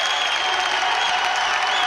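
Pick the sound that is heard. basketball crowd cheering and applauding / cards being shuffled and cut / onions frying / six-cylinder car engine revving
basketball crowd cheering and applauding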